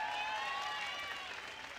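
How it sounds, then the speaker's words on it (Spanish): Studio audience on a Colombian television talk show applauds for the country's athletes, a brief, fairly faint wash of steady clapping heard alone. "Un aplauso para nuestros deportistas colombianos"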